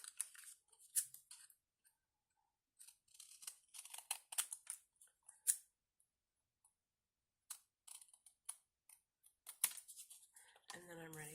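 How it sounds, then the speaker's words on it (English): Scissors snip through excess paper in quick bursts of close, crisp cuts separated by short pauses, ending with a brief moment of talk. "take a pair of scissors, trim off the excess paper"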